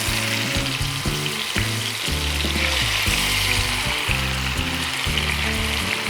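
Hariyali chicken fries in hot oil over a high flame, giving a loud, steady close-up sizzle throughout with a continuous tonal musical layer running underneath.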